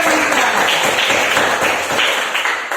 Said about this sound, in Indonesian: Kita berikan aplaus buat kita